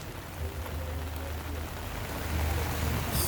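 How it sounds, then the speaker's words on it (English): Heavy rain falls on election day as a constant, moderately quiet hiss of rain on surfaces that swells slightly toward the end. "So as you can see, we have a lot of rain"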